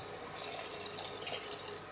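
Steady splashing of water poured into a pot, a continuous close-up gush with light dripping and no voices.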